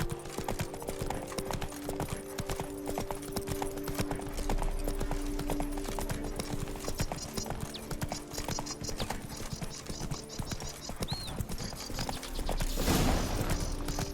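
Rhythmic clip-clop of the horse Roach's hooves trotting in The Witcher 3: Wild Hunt, a continuous even gait over ambient game sound, with a brief louder burst near the end.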